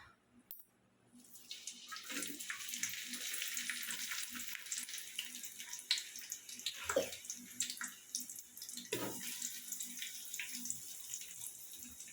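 Onions frying in hot oil for biryani, a continuous hissing sizzle that swells after a quiet start and holds steady, with a few soft stirring knocks, fairly faint and without talk.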